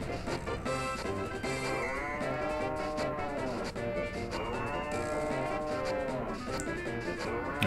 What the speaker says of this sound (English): Okay, so brushing cows.